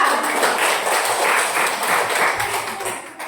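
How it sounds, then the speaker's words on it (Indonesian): A small group claps together in a steady patter of applause that fades slightly toward the end. "tepuk tangan untuk teman kita."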